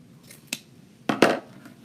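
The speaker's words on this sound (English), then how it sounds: "So trim it off short." Scissors trim ribbon for a Valentine's bow: a brief single snip, then a louder double cut close by, with near silence between.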